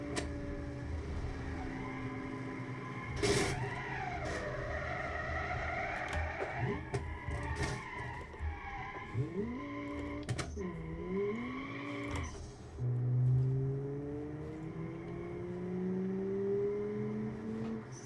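Simulated car engine in the Automation video game, revving up along a long straight and through a kink, with rising and falling engine tones, a brief tire squeal and gear changes, moderately loud and steady with no talk.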